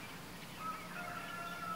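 Birds calling at a distance in a quiet outdoor setting, with a few faint thin whistled tones that rise above a steady low background hiss; no talking.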